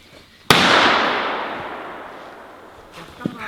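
A single sharp gunshot cracks out during a dog temperament test, followed by a long rolling echo that slowly fades, with faint movement sounds near the end.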